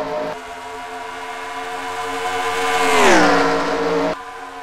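A race car engine in a racing video game at Auto Club drones steadily, then surges as its pitch swoops down and holds a lower tone before cutting off abruptly.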